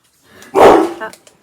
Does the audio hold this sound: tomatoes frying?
no